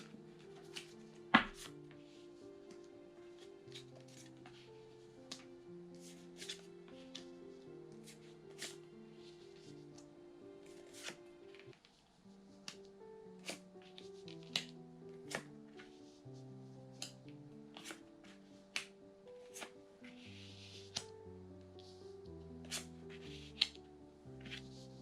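Tarot cards being drawn and handled, light papery slaps and flicks scattered across the stretch, each a brief crisp tick, heard close over soft background music with no talking.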